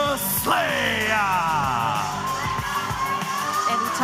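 A wrestling arena crowd roars and cheers as Freya the Slaya makes her entrance, a steady loud wall of yelling and whooping with entrance music running underneath.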